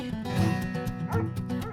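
Two household dogs barking and yipping insistently, close and loud, in rapid overlapping bursts with whiny tones throughout.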